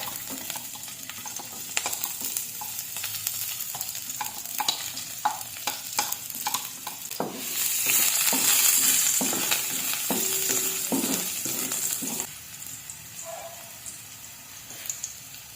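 Garlic frying in a tablespoon of cooking oil for pork adobo, a steady sizzle with scattered stirring clicks, swelling into a louder hiss midway as the garlic hits the hot oil, then settling back.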